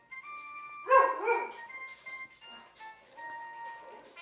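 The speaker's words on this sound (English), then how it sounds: "the dogs are starting to bark every time I mention this guy" Dogs bark a few times close by, a short cluster of loud barks followed by fainter yips and whines, alongside a steady high electronic tone.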